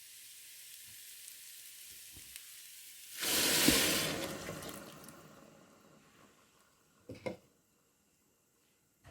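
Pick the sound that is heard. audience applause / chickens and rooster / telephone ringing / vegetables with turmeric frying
vegetables with turmeric frying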